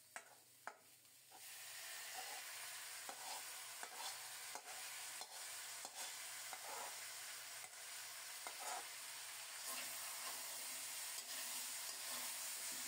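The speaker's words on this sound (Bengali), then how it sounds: "মশলাটা খুব সুন্দর মতো রেডি হয়ে গেছে। এদিকে এঁচোড়ও ভাজা হয়ে গেছে" Young jackfruit frying with spice paste in a pan, a soft, steady sizzle with a few light stirring clicks, faint and continuous without voices.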